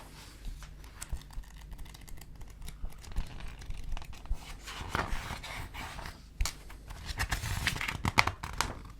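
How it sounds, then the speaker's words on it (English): Paper pages turning in a quiet library, a run of soft crinkling rustles and flips scattered across the stretch, close and fairly quiet, with a few sharper crisp turns toward the end. "Quieten down with that page turning."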